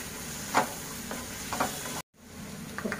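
A spoon stirs salt into a simmering tomato gravy base in a pan for paneer mutter malai. A soft, steady sizzle runs under light scraping strokes, then cuts out briefly before the stirring resumes.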